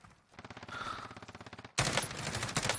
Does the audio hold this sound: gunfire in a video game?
yes